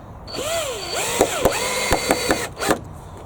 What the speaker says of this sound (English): In fact, I'll put a couple of screws in.